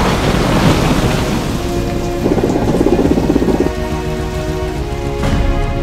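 Steady heavy rain pours onto surfaces with low rumbles of thunder rolling underneath, loud and continuous throughout with no voices.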